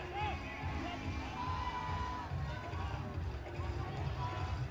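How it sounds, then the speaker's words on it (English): A full-capacity crowd of 7,000 at Kalinga Stadium roars and applauds continuously through a men's hockey quarterfinal celebration, a dense steady wall of cheering with a commentator's voice over it. "all enjoying this moment and taking their applause from the crowd."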